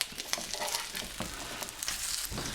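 Eggy crumpets topped with cheese and bacon sizzle in a hot frying pan during a flip, giving a steady, close crackling fry with small pops and no voices.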